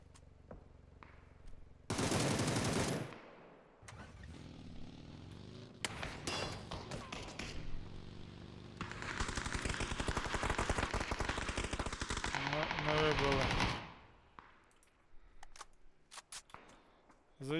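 Bursts of PUBG gunfire crackle in several loud volleys, with quieter gaps of thuds and clicks between them.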